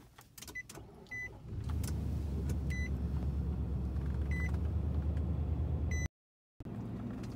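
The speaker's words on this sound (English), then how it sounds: "Let's go ahead and start her up." A 2018 Nissan Titan Pro4X truck starts up after a few chimes, its engine catching and settling into a steady low idle inside the cab, with repeated electronic beeps and a brief dropout near the end.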